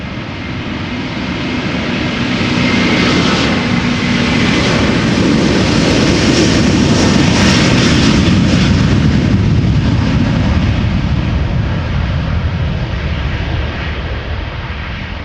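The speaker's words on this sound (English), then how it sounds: "This is Delta Airlines Flight 71. It is an Airbus A330-300 going to Atlanta," Delta Air Lines Airbus A330-300, eighteen years old, bound for Atlanta at Amsterdam Schiphol, its jet engines roaring loud and steady for the whole stretch, a broad rumble that swells toward the middle and eases slightly near the end.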